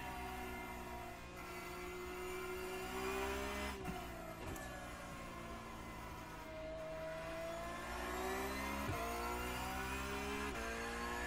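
Race car engines drone through the iRacing racing simulator, a continuous loud whine that rises and falls as the cars accelerate and shift through gears, with no talking over it.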